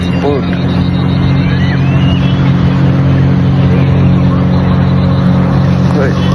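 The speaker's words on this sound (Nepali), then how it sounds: "सो बोट आइरहेको छ, हेर्ने भने गाइज हेर्ने हो, हेर्नुहोस् गाइज" A boat motors past on busy water, a steady low engine drone with a constant rumble running throughout, close and fairly loud, with faint crowd noise around it.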